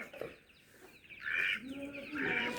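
Chickens among ducks in a yard give short bursts of clucking and calling, moderately close, with quiet background between the calls.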